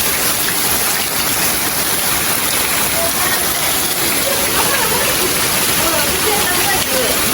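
Heavy rain pours down in a dense, steady roar that fills the whole scene without a break.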